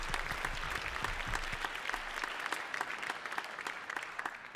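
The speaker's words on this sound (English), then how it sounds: "give yourselves a round of applause" Audience applause fills a live Christmas swing concert, a steady wash of many hands clapping that stays loud and even throughout, with no talking over it.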